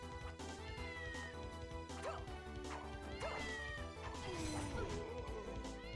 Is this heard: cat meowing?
yes